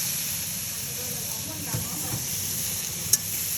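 Beans fry in a pan with a steady, close sizzle and hiss throughout, broken by a couple of faint stirring scrapes and a single sharp click near the end.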